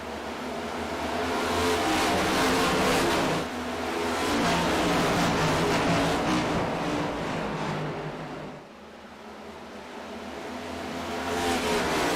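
Race cars at Indianapolis in the iRacing video game, engines roaring past in loud sustained waves that swell and fade, dipping briefly before building again, with no talk over them.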